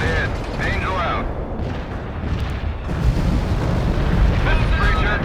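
Artillery fire support strike in the World in Conflict video game: heavy rumbling explosions and booms roll through continuously, swelling louder near the end, with radio-style voices talking over the barrage.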